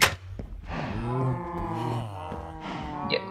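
A Minecraft cow lets out one long, close, drawn-out moo that rises and wavers for about three seconds, with no talking over it.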